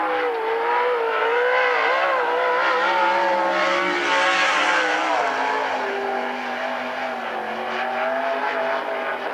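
A sprint car runs a qualifying lap at the Central Washington State Fair on the Western Sprint Tour, its loud engine roaring continuously with rising and falling revs through the corners, close and steady throughout.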